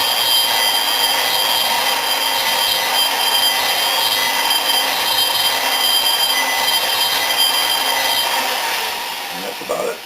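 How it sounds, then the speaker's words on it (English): A carbide cutting tool grinds steadily into an aluminum engine port, a continuous high whirring buzz that holds for the whole stretch before easing off near the end. "I finished my blend with my carbide cutting tool"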